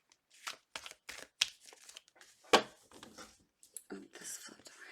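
Tarot cards shuffled by hand in a quiet room, a series of soft riffling and slapping bursts with small pauses between, close and fairly faint.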